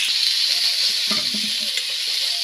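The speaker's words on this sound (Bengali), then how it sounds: "ঠিক গায়ে এরকম কালার আসবে, এই অবস্থায় ভেজে আমি নামিয়ে নেব।" Baby corn, mushroom and bell pepper pieces fry in oil in a pan, giving a steady close sizzle with faint stirring scrapes throughout.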